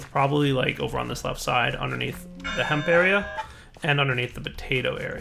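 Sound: alarm going off as a late-hour reminder

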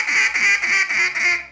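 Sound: duck call quack blown incorrectly

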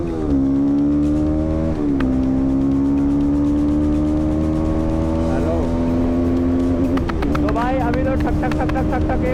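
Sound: Jawa 42 Bobber motorcycle riding after shifting gear

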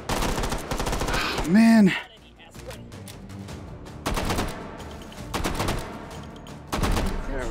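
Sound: gunfire in the VR game Hot Dogs, Horseshoes & Hand Grenades

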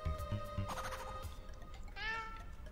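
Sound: cat meowing in an Adventure Time video game

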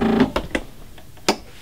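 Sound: sewing machine stitching silk fabric

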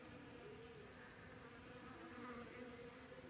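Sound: bees buzzing around lemon blossoms

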